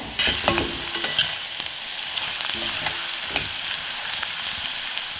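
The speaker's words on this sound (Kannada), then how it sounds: "ಇದಕ್ಕೆ ಸ್ವಲ್ಪ ಕರ್ಬೇವಿನ ಸೊಪ್ಪು ಹಾಕ್ತಾ ಇದ್ದೀನಿ" Curry leaves dropped into a hot pan while making spinach rice (palak rice), a sudden burst of close sizzling that settles into steady frying with a few stirring scrapes, no talking.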